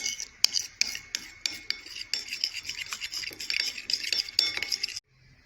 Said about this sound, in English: here comes half spoon of turmeric powder. It has healing properties also. Mix very well.